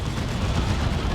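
Dense rumbling barrage from the Emperor's Wrath artillery strike in the Dawn of War 2 strategy game, a continuous roar of overlapping explosions and blasts at steady loudness throughout.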